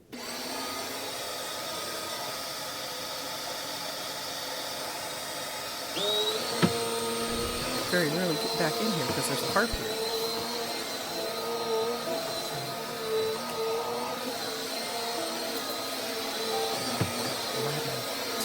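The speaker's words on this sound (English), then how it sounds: "let's stop for some lovely vacuum cleaner noise" A household vacuum cleaner drones steadily while cleaning a harp practice corner, its whine shifting as it moves across surfaces, with a brief spoken remark over the motor.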